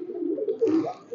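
Golla Lal pigeons in a loft give a soft, low cooing that rises and falls close by, a steady murmur with a brief swell near the middle.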